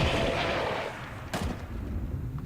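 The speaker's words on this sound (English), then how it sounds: "So we could just finish him off by throwing a grenade." A grenade explosion in the video game Long War 2, a loud booming blast with a sharp crack followed by a rumbling decay, heard alone without talk.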